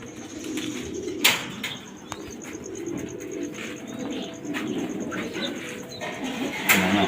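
Pigeons from a costly prized pair coo softly in low, repeated rolling calls, with chirps and a few sharp knocks and wing sounds around them in a quiet setting.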